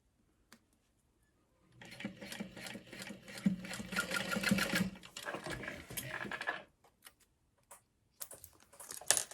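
A sewing machine bastes pieces of a Divina Tote bag in one steady, quiet run of several seconds, with scattered soft clicks and handling noises before and after.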